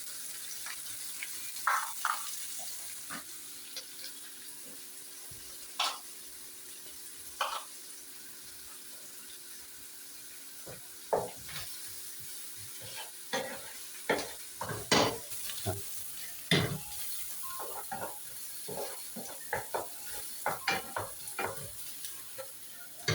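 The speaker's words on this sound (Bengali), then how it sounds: "হালকাভাবে নাড়তে থাকবো" Onions sizzle in a frying pan for an Italian tuna and onion spaghetti, with soft irregular scrapes and clicks of stirring over a steady quiet hiss.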